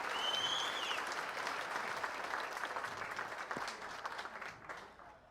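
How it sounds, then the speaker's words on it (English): An audience at a Northeast Dirt Modified Hall of Fame induction ceremony gives a steady round of applause, dense and full at first, then gradually thinning and softening toward the end. "How about a round of applause one more time for Eric Mack,"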